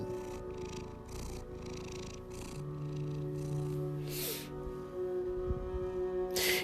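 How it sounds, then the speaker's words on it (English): An orange cat purrs close up in a steady, rumbling rhythm, the low continuous purr carrying on with soft breathy pulses and a few small rustles around it. "He's a purring machine."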